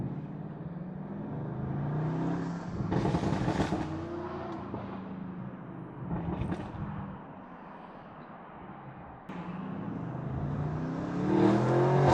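McLaren supercar engine accelerating on a road, heard from inside a following car, with a broad engine roar that swells and surges in several pulls over twelve seconds, loud and steady, with no talking.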